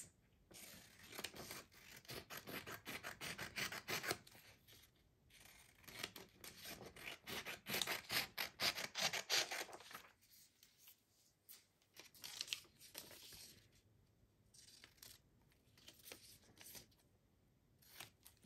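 Scissors cut through paper trim in quick runs of close, crisp snips, broken by short pauses and a soft paper rustle near the end.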